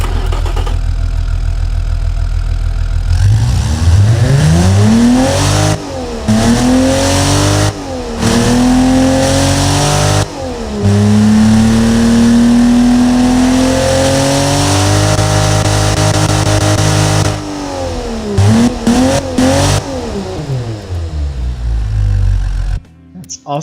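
Modified BMW M30B35 straight-six in the Automation game revs repeatedly, climbing and falling in pitch between loud, sustained high-rpm holds with short cuts in between.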